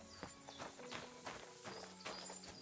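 A horse walks in the medieval video game Kingdom Come: Deliverance II, its hooves clip-clopping in a steady, close rhythm with several distinct hoof strikes over a low game background.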